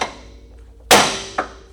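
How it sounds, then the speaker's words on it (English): An air hammer strikes parts during removal of a Honda Civic engine: after a quiet moment come one loud, sharp metallic impact and then a smaller second hit. "air hammer. That'll come in handy here now."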